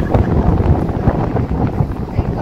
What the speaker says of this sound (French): Il y a un vent pas possible.